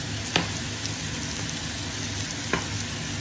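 Butter sizzling in a hot pan for a reverse-seared tomahawk ribeye steak: a steady, close crackling fry with a couple of soft clicks, no voices.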